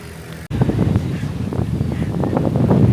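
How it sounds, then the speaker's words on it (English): Strong wind in Boracay buffets the microphone in a loud, continuous roar that starts abruptly and keeps gusting. "it's getting so windy"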